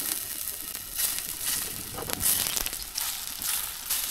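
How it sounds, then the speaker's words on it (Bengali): Stuffed pointed gourd frying in mustard oil in a pan, a continuous crackling sizzle with bright hissy bursts that swell and fade, close up and with no talking. "এবার এখানে 1 চামচ মতো সর্ষের তেল দিয়ে আমি ভেজে নিচ্ছি।"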